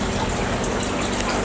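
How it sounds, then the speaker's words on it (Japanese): Rain begins falling on a farm as a severe winter cold wave arrives, making a steady, even hiss of drops that stays constant throughout with no voices. "今ちょっと雨降り出したな。"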